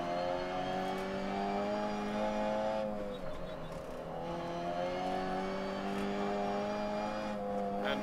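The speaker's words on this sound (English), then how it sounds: "Go through all the gears right now." A rally car engine in Dirt Rally revving hard and climbing through the gears, a loud steady drone whose pitch rises, drops at a shift around the middle, then climbs again, close and continuous with no talk.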